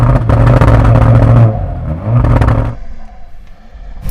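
Car engine revving hard against the soft limiter, loud and close, holding a bouncing drone for over a second, dropping back, surging again, then cutting off to a low idle rumble.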